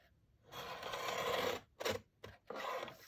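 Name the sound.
cutting nylon mailer material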